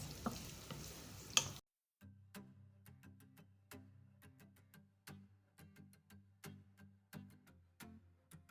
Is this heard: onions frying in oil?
yes